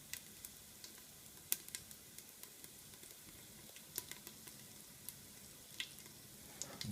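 Onions frying in a hot curry pan give a quiet, steady sizzle, with scattered sharp pops and crackles, some louder ones standing out over the low hiss.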